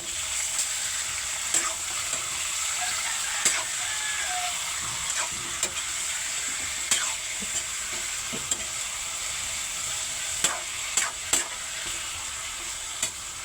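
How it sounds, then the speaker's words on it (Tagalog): Chicken wings sizzle and hiss steadily in a hot pan for adobo, with scattered sharp clicks of stirring or turning breaking through the continuous frying noise. "Ilalagay na natin ang ating chicken wing."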